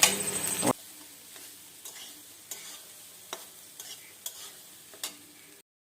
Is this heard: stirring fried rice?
yes